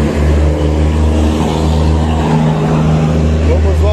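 Road traffic passing in Arapiraca, Alagoas, seen from a drone, with cars driving by as a steady low engine rumble that continues throughout, and a person talking over it.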